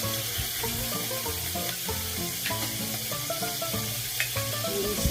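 Mushroom adobo sizzles steadily in a pan while a spoon stirs it, with occasional scrapes and taps, and background music plays underneath.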